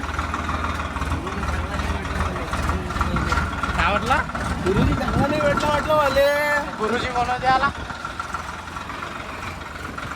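A new tractor's engine idles with a steady low rumble throughout, heard close under several people talking.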